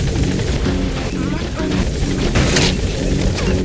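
Helicopter in the video game Metal Gear Solid V: a steady, loud rotor drone with rhythmic chopping throbs runs throughout, with a voice over it.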